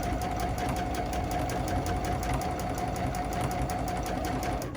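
A sewing machine runs steadily and fast during free-motion quilting, a continuous close, even mechanical whir and rapid needle chatter with no pauses.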